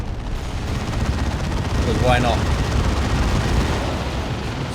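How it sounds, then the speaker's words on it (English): Artillery barrage explosions rumble from the video game Dawn of War 2, a dense, continuous wash of distant booms under a commentator's voice. "Double barrage is beautiful."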